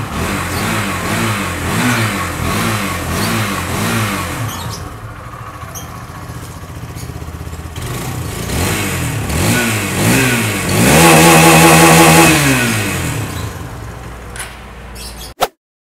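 A Hero Hunk 160R 4V motorcycle engine revved repeatedly in short rising and falling bursts, then held at a long high-rev pull before dropping off, close and loud with no talking.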